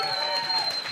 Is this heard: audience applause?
yes